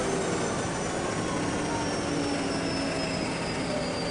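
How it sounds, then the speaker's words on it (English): GT3, a turbine-engined train, glides into a station with a loud, steady rushing roar and a thin, high whine running through it, sustained without a break. "Turbine engines do make a loud whining noise."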